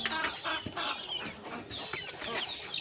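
Hungry farm-breed chickens cluck and chirp continuously at close range while pecking at a person's fingernails on a poultry farm, with soft scratching and rustling underneath.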